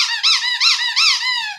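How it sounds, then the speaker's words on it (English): A squeaky banana-shaped dog toy gives several rapid wheezing squeaks in a row, close and loud, with nothing else heard. "A squeaky toy for the dogs. It's a banana dog."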